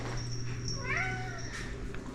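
A domestic cat lets out a drawn, rising meow over a steady low hum of an indoor room under renovation, a single call near the microphone.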